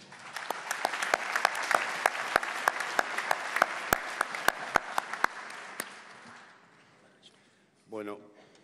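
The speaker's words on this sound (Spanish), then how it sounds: "Fuerte aplauso." An audience at a political forum gives loud applause, dense and sustained, with sharp individual claps standing out. It fades after about six seconds, and then a voice begins speaking.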